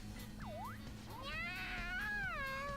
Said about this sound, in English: cute cat sounds are cute